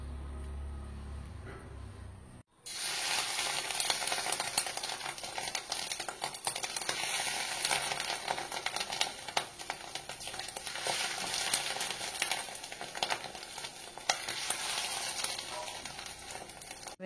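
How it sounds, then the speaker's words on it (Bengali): After a quiet moment, fish roe fritters hit hot oil in a wok and a loud, crackling sizzle starts and continues steadily, with occasional sharper pops. "আমার কড়াতে তেল গরম হয়ে গেছে, এবারে এগুলো একে একে আমি ভেজে নেব"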